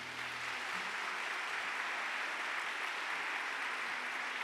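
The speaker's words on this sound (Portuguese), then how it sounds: "pode aplaudir o Senhor" A congregation at a Catholic church service claps steadily and continuously, a fairly quiet, even wash of many hands with no voices over it.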